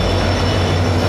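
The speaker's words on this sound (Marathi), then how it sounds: "फायनली आमची ट्रेन आलेली आहे" A passenger train pulling into a station in Konkan, a loud continuous low rumble and hum of the cars rolling past close by.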